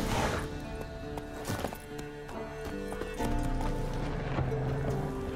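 Horse hooves clop steadily in The Witcher 3 video game, with a whinny, over a layered game soundtrack of sustained musical tones. The rhythmic hoof falls stay close and clear throughout, with no talking.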